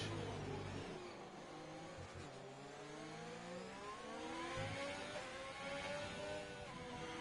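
F1 race cars in a racing video game at the Vietnam circuit, several engines whining and rising in pitch together, passing close with steady high revs and shifting tones.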